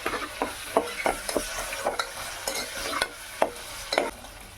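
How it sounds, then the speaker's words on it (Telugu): Green chillies, bay leaf and cashews fry in a pan for tomato rice, a soft sizzle broken by repeated spatula scrapes and stirring clinks at an uneven rhythm, close by and fairly quiet with no talking. "పచ్చిమిరపకాయలు, బిర్యానీ ఆకు, జీడిపప్పులు, ఇవి కొంచెం ఫ్రై అవ్వాలండి."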